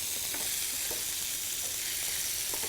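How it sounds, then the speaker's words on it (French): Meat for goulash browns and sears in a hot pan with a steady, hissing sizzle and a few soft stirring knocks, heard close and without talk. "on le fait juste les faire brunir, en fait, pour sceller la viande"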